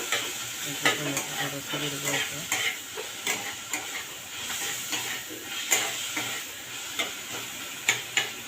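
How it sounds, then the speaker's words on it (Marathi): Onion and tomato fry in a kadai with a soft continuous sizzle, punctuated by regular scraping and clinking strokes of a spatula against the metal pan, close and moderately quiet. "कढईमध्ये कांदा टोमॅटो भाजून घेतलेला आहे"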